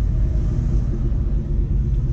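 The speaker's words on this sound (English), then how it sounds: "But it's a very burbly exhaust." Low, steady burble from the Flowmaster axle-back exhaust of a supercharged Ford SVT Cobra, a deep rumbling drone heard close and fairly subdued, with no talking over it.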